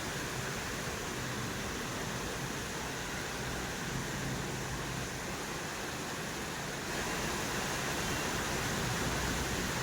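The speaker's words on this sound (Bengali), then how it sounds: "মুষলধারে বৃষ্টি, মুষলধারে বৃষ্টি।" Heavy downpour of rain beside the NH-16 highway during a thunderstorm, a dense, unbroken roar of hiss that stays loud and even throughout with no distinct drops or voices.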